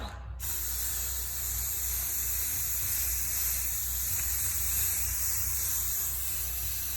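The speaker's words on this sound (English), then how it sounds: "What I'm using, it is a spray paint." A can of spray paint hisses steadily for several seconds after a brief silent start, close and fairly loud, with no talking.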